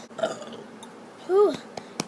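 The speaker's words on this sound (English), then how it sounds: "Burp." A girl lets out two burps, a short one early and a longer, louder croaking burp near the middle, close to the mic with quiet gaps between.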